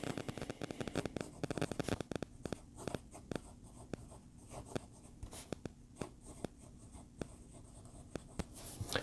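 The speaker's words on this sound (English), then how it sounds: "let's do an actual writing sample" Fountain pen with a smooth nib scratching across paper, a dense run of fine scratches and small taps as letters are formed, close and fairly quiet, with no talk.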